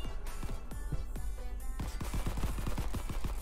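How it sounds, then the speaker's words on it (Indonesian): Rapid bursts of pistol gunfire in the online multiplayer game Crab Game, sharp repeated shots first spaced out and then fired in a quick string, loud and close over a steady background hum. "Siapa itu pakai pistol, anjir?"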